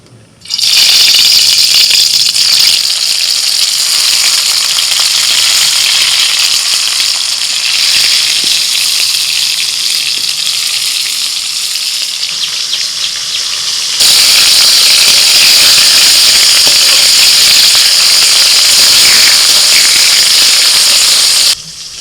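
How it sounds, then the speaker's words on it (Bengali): Pointed gourd (potol) pieces rubbed with salt and turmeric frying in hot oil, a loud steady hiss and crackle that carries on throughout and turns slightly brighter partway through. "এবার তেলটা গরম হয়ে গেছে পটলগুলো ভেজে নিই"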